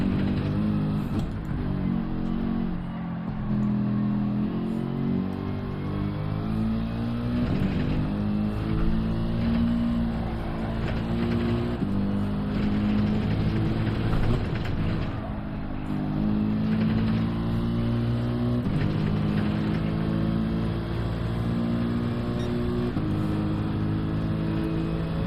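A race car engine in Gran Turismo 7 holds a steady, loud drone throughout, pitch climbing and dropping repeatedly as gears change, with no talking over it.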